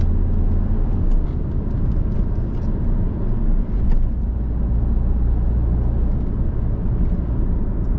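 Car engine accelerating in fourth gear during a driving lesson, a loud, steady low drone of motor and road noise heard from inside the cabin, with a few faint clicks.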